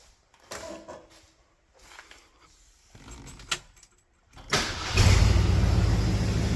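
After a few faint clicks and handling noises, a classic car engine cranks and catches, then settles into a steady, fairly loud idle.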